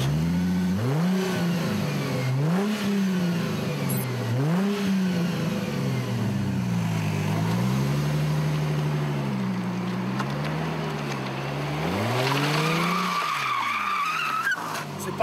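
A Plymouth Prowler's engine starts and is revved several times, each rise and fall in pitch clear and close, then settles into a wavering idle before a final sharper rev.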